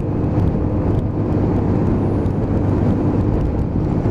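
A Lexmoto Titan 125cc motorcycle being ridden around roundabouts on new tyres, its engine a steady loud drone mixed with rushing wind, continuous and close throughout.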